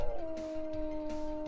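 Wolves in the video game WolfQuest howl together in a pack rally, several sustained tonal howls overlapping close up with a low rumbling background beneath them.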